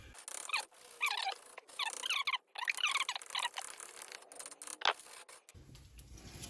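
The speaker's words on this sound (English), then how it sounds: "what we're doing is just wire brushing in there and in there on the inside" A wire brush scrubs hard against a metal brake caliper in rapid, scratchy bursts, close by, with short pauses between strokes.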